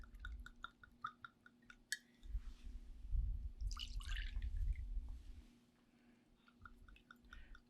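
Smoke Wagon whiskey poured into glasses, two full ounces in each, gives a soft liquid trickle lasting a few seconds, with light drips and small glassy taps before and after.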